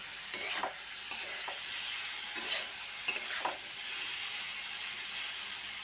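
Raw meat being hand-mixed with yogurt, garlic paste and ginger paste for a marinade: soft, wet squelching and slapping sounds in an irregular rhythm, close and fairly quiet, with no talking.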